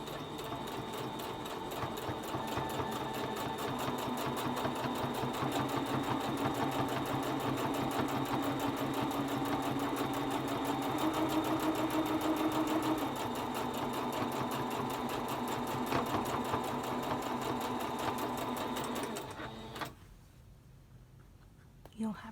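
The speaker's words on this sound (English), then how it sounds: "on the machine, we just top stitch along the bottom, along the top and the bottom" A sewing machine top stitches a pleated fabric mask in one long, steady, close whirring run that stops abruptly near the end, followed by quiet.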